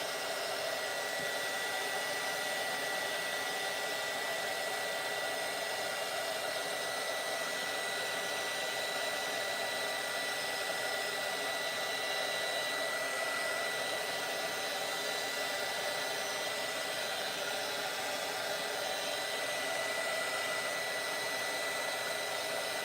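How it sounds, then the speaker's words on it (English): A hair dryer blows with a constant, even roar, running nonstop at close range with no breaks or voices. "I may have to use my dryer in between this."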